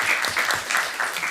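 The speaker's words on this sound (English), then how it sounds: "Give him a round of applause." An audience at a Burbank city council meeting claps in a brief, dense round of applause, steady and fairly loud for just over a second.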